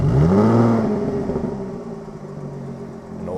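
A Jaguar F-Type V6S with its tuned exhaust, flaps open and engine cold, revs hard in one loud rising-then-falling blip up close, settling into a steady deep idle rumble afterward.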